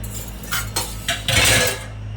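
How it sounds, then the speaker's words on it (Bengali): A few dishes and pots are set down in a home kitchen, with several separate clinks and clatters of crockery and cutlery close by, ending in a louder clattering burst. "এখন এই বাসন কটা রেখে দিলাম, মাসি এসে মাজবে"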